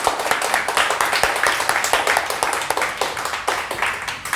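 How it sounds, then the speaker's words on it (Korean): A church congregation applauds to welcome guests during a Sunday service, with dense, steady, fairly close clapping throughout. "두 분 다 박수로 환영하겠습니다."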